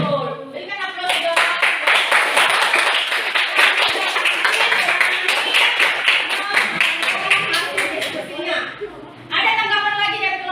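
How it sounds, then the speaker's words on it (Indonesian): A junior high civics classroom bursts into dense, steady applause for a group's answer, many hands clapping together for about eight seconds before it tapers off and a voice returns. "Berikan aplaus juga."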